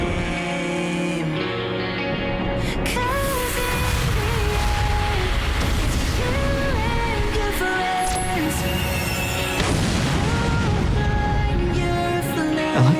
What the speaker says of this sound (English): I like how he blew up and then blew up again.